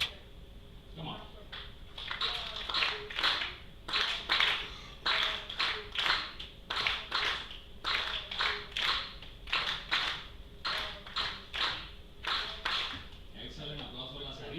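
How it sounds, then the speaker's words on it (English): A group clapping in a steady, rhythmic pattern of short bursts, like a class practising a counted beat, fairly faint and continuing for several seconds with a voice talking faintly in between. "Applause for Lazarito."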